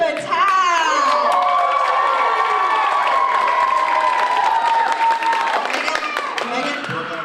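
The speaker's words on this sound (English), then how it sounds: "Give it up for Megan Battad!" A loud, dense crowd at a talent show cheers, whoops and applauds without a break, with shrill shouts riding over the steady roar before it starts to thin near the end.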